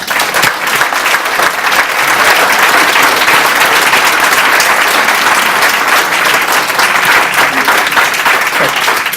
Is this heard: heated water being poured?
no